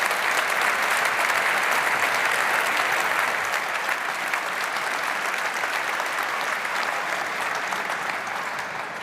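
Sustained applause fills a hall at a university's academic-year opening ceremony as prize winners are honored, a broad, even roar of many hands clapping that holds steady and only begins to thin slightly toward the end.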